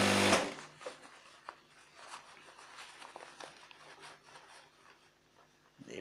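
A sewing machine stitches a shirt while the sleeve is being attached: a louder burst of running at the start, then a softer, uneven stitching and handling texture with small knocks, close by.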